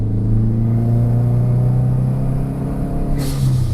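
A 400 HP Mopar Stage 3 Neon SRT-4 engine pulls hard under acceleration, a loud steady droning rumble with a rising tone from inside the car, no speech.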